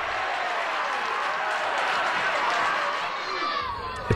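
A football crowd roars in delirium after a Dagenham goal, a steady, dense wall of cheering and noise from many fans throughout.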